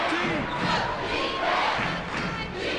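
A crowd cheering at an Army vs Navy college basketball game in the video game ESPN College Hoops 2K4, a dense, loud roar of many voices that swells and dips slightly but never drops out.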